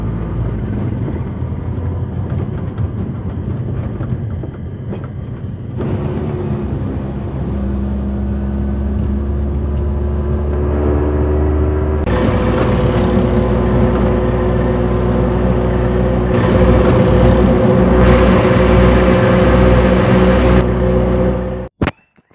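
An auto rickshaw ride from Rajapur railway station: a steady close engine drone with road rumble that builds louder midway, the pitch shifting as it moves, then a sudden stop at the end.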